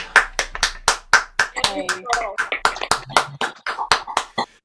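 A live audience applauds and cheers for a folk singer-songwriter after her song at a New Year's Eve concert, with dense, sustained clapping and whoops filling the whole stretch.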